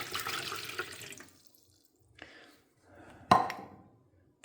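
Water, 500 ml, is poured into an electric lunch box in short splashing bursts, with a gurgling pour at the start and brief trickles and a splash later, close and moderately loud.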